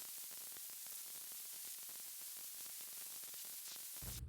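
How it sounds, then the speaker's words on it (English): Loud, constant hissing static fills the air evenly, then cuts off abruptly near the end. "And here's the static."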